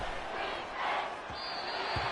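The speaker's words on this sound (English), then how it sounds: "This crowd turning up the decibel level." A roaring stadium crowd swells in a Madden football game on a long third down, a broad wash of cheering rising and falling behind a commentator's voice.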